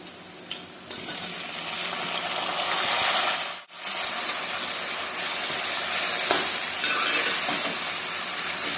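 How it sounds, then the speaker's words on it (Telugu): Chopped tomatoes hiss and sizzle steadily in a pan of fried onion tempering for egg curry, a loud continuous frying crackle that briefly drops out once before resuming. "కట్ చేసి పెట్టుకున్న టమాటా వేసుకుందాం."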